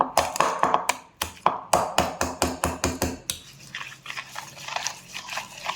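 Sugar being stirred by hand into thick hung curd for shrikhand, a run of close, wet tapping and scraping strokes in quick rhythm, then softer continuous mixing noise.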